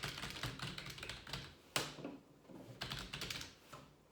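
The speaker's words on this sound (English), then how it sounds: "So I've got my keyboard now." Quiet, close typing on a computer keyboard at a workstation, with rapid clusters of soft key taps separated by a brief pause and one sharper keystroke.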